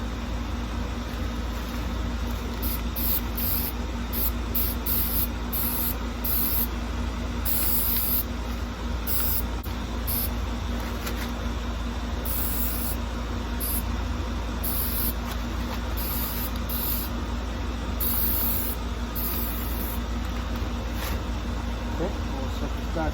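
Spray paint going on in a second coat over a Bronco tire rack being refurbished, a steady continuous hiss of close, fairly loud aerosol spraying with slight pulsing bursts throughout.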